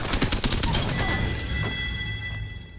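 Rapid gunfire in the Apex Legends video game, a dense burst of loud automatic shots for about a second and a half that trails off into echoing impacts.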